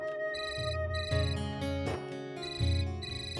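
A melodic phone ringtone plays loudly and clearly, repeating its bright electronic tune with no voices over it.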